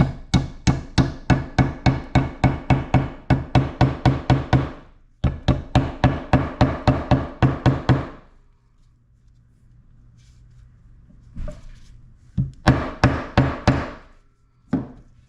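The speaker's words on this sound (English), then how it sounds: "And my trusty plastic hammer here." Plastic hammer tapping a seal into a Ducati 916/996/748 clutch cover, with two long runs of quick, evenly spaced sharp knocks, then a quiet pause and a few scattered taps at the end.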